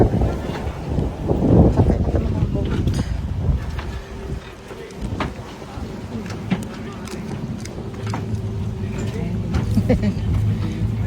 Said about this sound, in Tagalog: Sakay na kami ng boat.